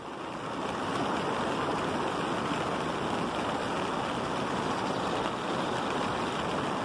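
Floodwater from a burst dam near Afogados da Ingazeira in Brazil rushes past in a loud, continuous roar, a steady broadband wash that never lets up and has no voices over it.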